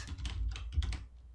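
Typing on a computer keyboard, a quick run of soft close key clicks lasting just over a second, faint and alone.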